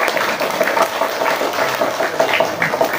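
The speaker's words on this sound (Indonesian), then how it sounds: "Kita beri tepuk tangan dulu untuk pengajar BPD di sini." Schoolchildren clapping for a teacher at an elementary school, a steady patter of many small hands filling the room for a few seconds.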